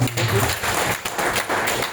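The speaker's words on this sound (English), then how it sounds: "let's give Madam Florence a big round of applause for Papa" Audience at a presentation skills training session for business leaders claps for a participant, a steady moderate round of applause with a few sharper claps and light background noise.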